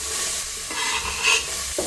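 Onion hits hot lard in a pot and sizzles with a steady close crackle, broken by the scrape and clatter of stirring near the end.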